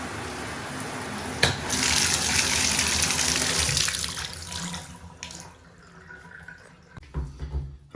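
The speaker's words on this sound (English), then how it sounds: "it should be just a little bit of a dribble here, that's it" Water runs from a repaired Delta bathtub spout, a loud steady gush for several seconds that tapers into a faint dribble, with a few knocks near the end.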